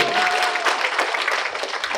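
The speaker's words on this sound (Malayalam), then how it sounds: "ഓ ഒരു കയ്യടി" An audience at a fan meet-and-greet claps and cheers, with dense, continuous applause filling the whole moment at close range.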